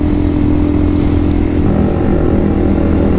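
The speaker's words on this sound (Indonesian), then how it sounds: "Wow, pada speedingan loh, NMAX, PCX, motor-motor matic." Automatic scooters, Yamaha NMAX and Honda PCX, speeding by on a road, a loud steady engine drone with mild rise and fall and no speech.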